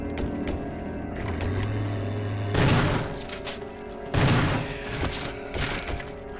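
Shotgun fire aimed at a zombie in Resident Evil, a low mechanical hum, then two loud booming blasts a couple of seconds apart, each ringing out over the quiet game ambience.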